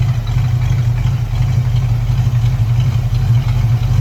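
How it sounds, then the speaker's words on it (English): A warmed-up 1967 coupe idles steadily from behind the car, a loud, close, low rumbling hum with a slight rhythmic lope and no revving. "the car is a little bit warmed up, so I'm just gonna show you how it sounds from the back"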